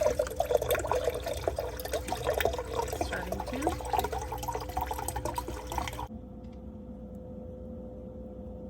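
Water from a GE refrigerator's water dispenser runs in a steady, splashy stream as a glass fills, then cuts off abruptly as air enters the line, leaving a quiet hum; a voice briefly speaks.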